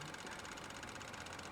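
A Chevy Cruze with a coolant leak idles while warming up, giving a faint, steady engine hum with a slight rhythmic knock and no talk.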